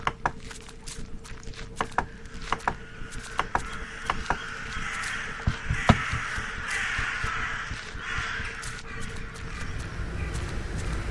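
Crows caw in the horror game The Last Door, sharp repeated calls scattered across a steady eerie ambient drone with faint clicking, the cries mostly moderate and close with no talking.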